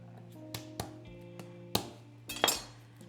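A knife chops food on a board in a kitchen, a handful of sharp, uneven knocks with faint clinks in between, close by against a steady background hum.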